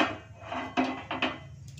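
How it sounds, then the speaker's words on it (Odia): Iron tawa griddle set down on a gas stove, a few close metallic knocks and scraping clanks as the heavy pan is positioned, with a faint background hum. "ତାୱା ବସେଇବା।"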